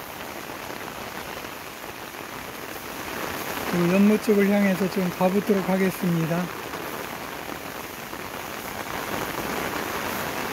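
Heavy summer monsoon rain pours steadily over a garden with a pond, a dense, even hiss throughout while someone speaks briefly in the middle.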